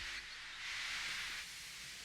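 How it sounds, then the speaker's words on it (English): A steam locomotive blows off steam in a broad, steady hiss that swells louder through the middle and then eases back, heard alone with no voices. "Henry still stayed in the tunnel and blew steam at him"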